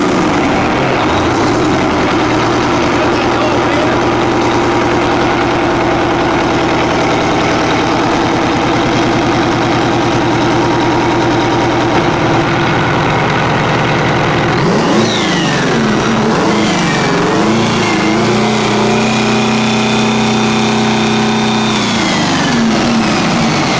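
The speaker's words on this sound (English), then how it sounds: "fires up for the first time in Australia for a mining drill" A 12.1-liter, 587 hp diesel engine for a mining drill fires up and runs loud and close, settling into a steady idle, then revs up and down with rising and falling pitch after about fifteen seconds.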